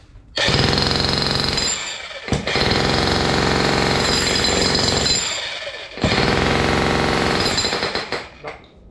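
A Hitachi jackhammer hammering on metal, loud and close, running in three sustained bursts separated by brief pauses, with harsh, dense rattling.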